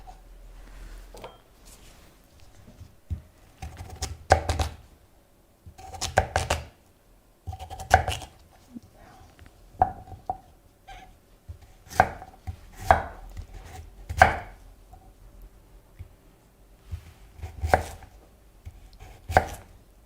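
Radish, green onion and onion being chopped with a knife on a board: bursts of quick, close, crisp chops, separated by short pauses, heard alone without talk.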